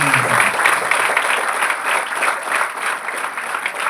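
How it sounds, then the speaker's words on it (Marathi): A congregation at a church program claps loudly, a dense, sustained round of applause that ebbs and swells slightly throughout. "एका जोरात टाळ्या वाजवा प्रभूच्या नावासाठी"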